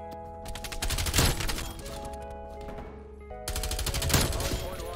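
Bursts of LC10 submachine gun fire in Black Ops Cold War, two rapid rattling volleys of close shots separated by a short lull, over steady game music and ambience.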